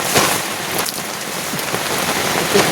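Steady rain pours down onto surfaces, a dense continuous hiss with scattered drop impacts, loud and close, no voices.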